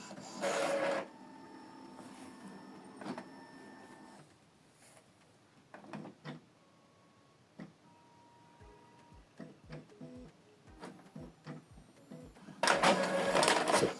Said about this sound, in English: So it's printing.